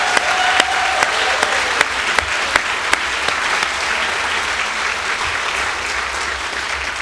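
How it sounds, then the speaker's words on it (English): An audience at a spring convocation applauds the facility staff, a sustained burst of many hands clapping with a few sharp individual claps standing out, holding steady for several seconds. "let's give them a round of applause for setting all this up"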